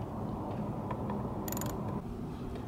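Ratchet wrench tightening bolts on an aluminum scooter gearbox cover, a short burst of quick metallic clicks over a steady mechanical background hum.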